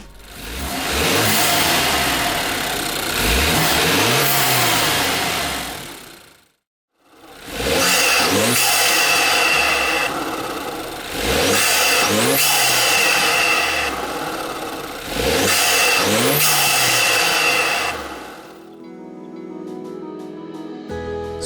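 Loud revving from a BMW F30 328i engine with an MST intake, tuned Stage 2 with Bootmod3, in several rising and falling bursts, a short silent gap after the first, then a quieter steady idle at the end.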